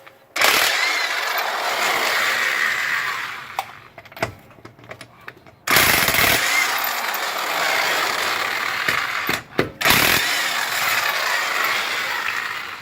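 A power tool with a 19 socket spins car wheel bolts loose in three long, loud whirring bursts, each broken by short gaps and small clicks.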